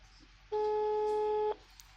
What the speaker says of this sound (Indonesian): Coba telepon Nadia lagi